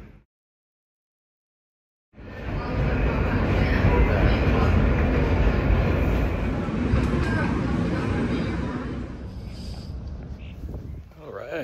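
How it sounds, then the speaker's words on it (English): A New York subway train arrives at a station after a brief silence, its loud rumbling roar building and holding close for several seconds before easing off, with people talking faintly. "No, let's wait for this train."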